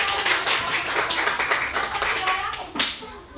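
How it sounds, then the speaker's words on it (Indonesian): A group of children in a sixth-grade English classroom claps together in a brisk, uneven burst of sharp hand claps, fairly close, with a few voices mixed in. "Oke, tepuk tangan."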